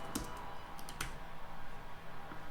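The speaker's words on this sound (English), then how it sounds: "It's kind of like a nice key, like car keys kind of a hi-hat." A few faint, bright metallic clicks and jingles from a hi-hat sample that sounds like car keys, quiet and sparse, with two or three hits close together and then a lone tap.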